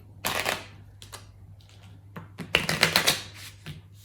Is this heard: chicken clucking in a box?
no